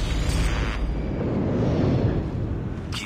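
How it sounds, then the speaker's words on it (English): Airstrike explosions in the Call of Duty Mobile multiplayer game: loud, continuous booming blasts and rumbling bursts blend into a dense roar for about three seconds, with no talk. "Friendly airstrike incoming."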